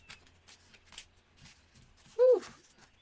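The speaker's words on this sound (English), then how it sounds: "Some people just shuffle till they're done and then they start pulling from the top or wherever." Tarot cards being shuffled by hand in a quiet room, a soft papery riffle of light rustling bursts, followed by a brief louder squeal-like sound near the end.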